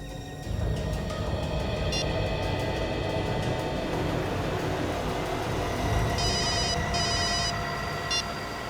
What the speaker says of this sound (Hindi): एक काम करो, अपने मोबाइल से उसे फोन लगाओ।